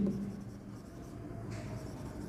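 Marker or chalk scratching steadily across a classroom board while English grammar is taught, a faint continuous scrape with a brief squeak near the end.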